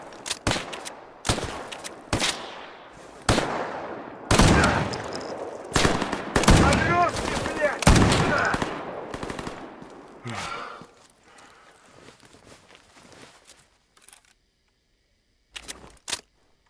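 Gunfire in Stalker Gamma: a series of loud, sharp shots fired singly and in quick pairs, close and punchy, thinning out toward a quiet stretch before a final couple of shots.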